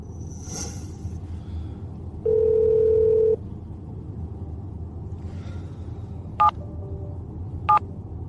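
A telephone handset plays a burst of dialing tones, then a steady ringback tone that cuts off, followed by two more short beeps as the call goes unanswered over a low background rumble.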